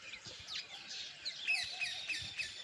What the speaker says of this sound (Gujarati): અટાણે સવારમાં જો ભાઈ પક્ષી કેવા કિલોર મસ્ત